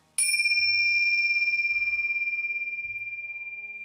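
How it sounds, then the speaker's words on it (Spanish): A single struck Tibetan singing bowl rings out with a clear, sustained metallic tone, slowly fading over several seconds with a gentle pulsing shimmer. "Estas son unas campanas tibetanas."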